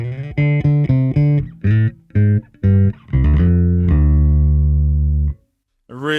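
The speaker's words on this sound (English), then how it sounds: "Let's do the unthinkable and put the pick down and do that again with a different riff." A Yamaha bass guitar plays a riff plucked with the fingers instead of a pick, loud close notes in a choppy rhythm that ends on a long sustained note before a short pause.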